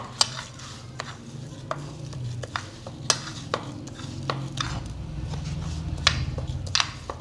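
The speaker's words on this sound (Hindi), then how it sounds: "अब मैं इसको अच्छी तरह से मिक्स करके इस तरीके से आप इसको अच्छी तरीके से मिक्स कर लें।" Raw mango and garlic pickle masala stirred in a bowl, a soft continuous scraping and squishing with light spoon taps at irregular intervals, close and fairly quiet with no speech.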